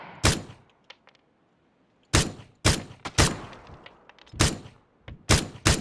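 Single gunshots in the video game PUBG crack out loud and close, about eight sharp reports spaced irregularly over a few seconds with short quiet gaps, and no talking.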